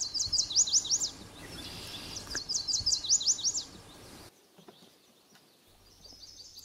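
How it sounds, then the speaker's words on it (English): Chestnut-sided and yellow warblers sing in woodland, bright sweet phrases repeating at moderate distance, two clear bursts early on and fainter song later over a soft outdoor background. "I'm hearing more chestnut-sided and yellow warblers here."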